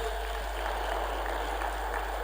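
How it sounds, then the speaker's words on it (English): An audience at a real estate conference and exhibition in Lagos applauds in a steady, dense wash of clapping, even and fairly distant, filling the hall without a break. "stand up and give him a resounding round of applause"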